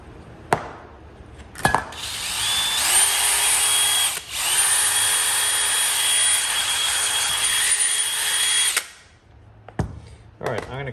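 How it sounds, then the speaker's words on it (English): A Ram Tools Model F-11 Fury power drill spinning a wire brush wheel to clean metal whirs loudly for about six seconds of steady grinding, with brief short bursts of the tool before and after. "I hit it with the wire brush and took most of it out"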